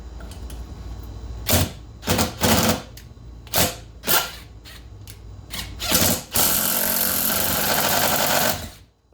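Impact drill driving a drywall screw, heard as a series of short, loud rattling bursts of hammering that stop and start, ending in a longer sustained run of impacts.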